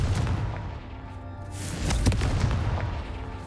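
A Confringo fire spell blast in Hogwarts Legacy, a dull booming burst over a steady low rumble, with a brief louder impact near the middle.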